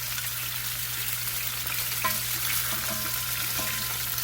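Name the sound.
bacon-wrapped stuffed chicken breasts frying in a pan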